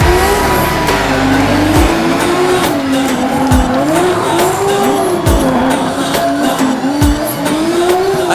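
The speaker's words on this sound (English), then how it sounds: "There's only one way to end the drift show, and that's with victory skids." Drift cars pull loud victory skids at a North vs South drift challenge in Waimate, engines droning continuously with repeated tire squeal and revving that rise and fall throughout, close and dominant.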